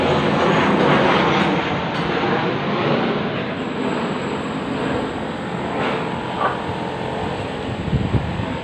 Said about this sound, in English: Plane going over as I speak.